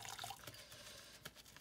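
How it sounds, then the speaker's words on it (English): Water is squeezed and drips from wet felted wool by hand, soft and close, with faint trickling and small drips over a quiet background. "I'm squeezing out some of the water because this has a lot of water."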